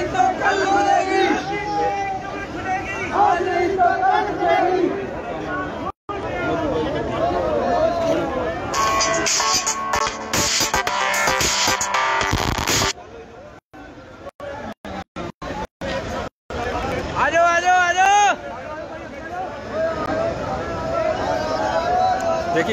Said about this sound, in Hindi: देखिए, किसानों की भीड़ जो है लगातार बढ़ती जा रही है